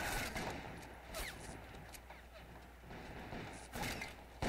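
Musket volley fire from Civil War troops in Men of War: Assault Squad 2, heard as scattered cracking shots over a continuous battlefield rumble, with several sharper reports standing out.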